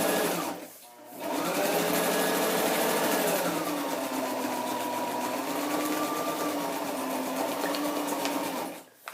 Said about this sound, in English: And I'm going to use a zigzag stitch, I think.